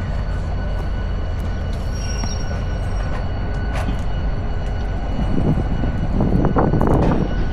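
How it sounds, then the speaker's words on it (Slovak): A train carrying passengers and motorcycles rumbles loudly and steadily, with a broad low roar, faint metallic squeals and rattles, and the noise swelling slightly toward the end, with no voices. "V tomto vlaku napravo sme išli a tuto nám vezú motorečky."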